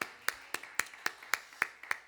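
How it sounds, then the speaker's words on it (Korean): A single pair of hands clapping slowly and evenly in a church during a Sunday service, about eight sharp claps spaced steadily, fairly quiet with little else around. "우리 영광의 박수 올려드립시다"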